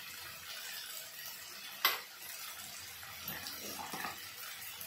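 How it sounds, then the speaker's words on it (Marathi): Hot water poured into a pot of veg paneer biryani, a steady soft watery hiss and trickle close by with a brief splash near the start and small bumps later, no talking. "आणि हे गरम पाणी टाकून घ्यायचं।"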